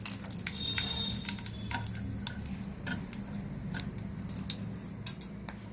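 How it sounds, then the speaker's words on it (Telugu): Green chillies and curry leaves frying in oil, a faint steady sizzle dotted with sharp ticks and pops at irregular intervals and an occasional light clink of utensil on pan, quiet with no speech. "కరివేపాకు వేయించాను."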